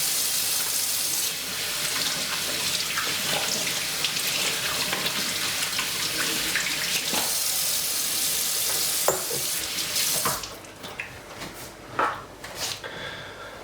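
Hands scrubbed under a steadily running kitchen tap while making Karachi-style kebab burgers, a continuous close hiss of water that cuts off near the end, leaving a few scattered knocks and splashes.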